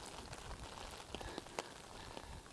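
Steady rain falls on a surface during a rainstorm, a dense continuous patter with scattered sharper drop hits, close and moderately loud with no voices.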